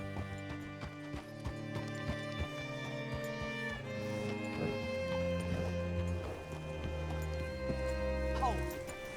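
Red Dead Redemption 2 horse hooves clip-clop steadily beneath sustained background music, with a brief whinny-like sound near the end.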